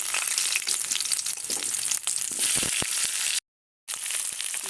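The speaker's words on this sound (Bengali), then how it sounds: "ওই কড়াইয়ের মধ্যে ডুমো ডুমো করে কেটে রাখা আলুগুলো ভালো করে ভেজে নেব" Diced potatoes fry in a kadai with a steady, loud sizzle and crackle, close up and continuous, broken by a brief silent gap near the end before the frying resumes.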